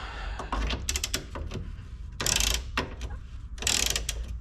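A ratchet wrench clicks in quick bursts while a bolt is loosened on a ute's steering rack, with the rapid pawl clatter coming close and fairly loud in short runs broken by pauses.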